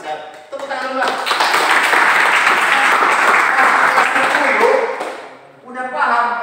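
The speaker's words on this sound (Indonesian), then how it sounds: "Saya tepuk tangan dulu." Classroom applause swells into a dense, steady burst of clapping in a teaching session, then fades out. Voices speak briefly before and after it.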